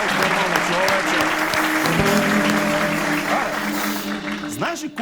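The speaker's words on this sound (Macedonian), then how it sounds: "Аплауз, нормално човече." Studio audience clapping at a Macedonian comedy talk show, a sustained wash of applause with tonal voices or music lines running underneath, thinning slightly near the end.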